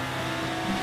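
A car in the racing video game Screw Drivers accelerates hard, its engine whining in a steady, rising tone over a short moment.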